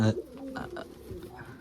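Pigeons coo softly in a brief stretch of low, rolling calls, close by and fairly faint.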